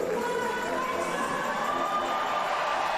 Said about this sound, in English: the largest ever home crowd for a British Davis Cup tie